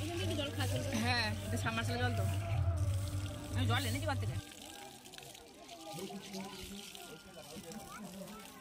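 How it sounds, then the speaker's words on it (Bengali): Water pours steadily from a submersible pump outlet beside a path at a village ashram during a Kali puja gathering, splashing as people wash their hands, heard under nearby voices and crowd chatter. "এই সাবমার্শাল থেকে জল পড়ছে, এখানে সবাই হাত ধুচ্ছে"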